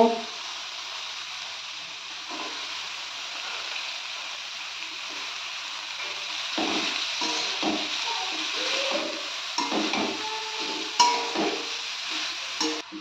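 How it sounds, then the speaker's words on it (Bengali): Cabbage dropped into hot oil with fried spices for a Bengali badhakopi ghonto, a steady soft sizzle with scattered louder crackles and stirring scrapes building midway, close by with no talking. "এবার আমি এর মধ্যে বাঁধাকপিগুলো দিয়ে দেব।"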